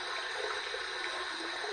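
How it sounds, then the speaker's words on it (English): Hot tap water runs steadily over a shaving razor, a continuous close hiss of flowing water with no talk. "I'm gonna go ahead and heat this up under some hot water."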